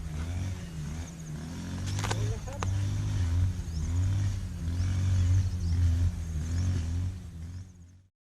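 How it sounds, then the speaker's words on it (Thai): A grass cutter runs nearby with a steady, buzzing engine drone that swells and dips over several seconds, with a couple of sharp clacks partway through before it cuts off. "มีเสียงคนตัดหญ้าอยู่ข้างๆ"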